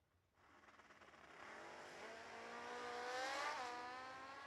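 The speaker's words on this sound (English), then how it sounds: "A whole lot of tire spin for Zach Collins." A drag racing car spins its tires at the New Year Nationals, its engine roaring and rising in pitch as it builds. The sound is faint and distant.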